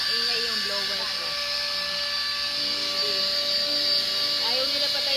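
A steady, loud whooshing hum of a hot-air hair styler runs continuously, with faint voices talking over it.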